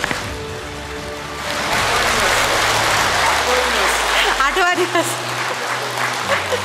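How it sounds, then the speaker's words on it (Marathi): Loud audience applause at a World Kidney Day 2024 event, a dense sustained wash of clapping that swells after a moment and carries on, with a voice speaking over it toward the end. "सरांनी सांगितल्या तशाच एकदा जोरदार टाळ्या सरांसाठी वाजवा."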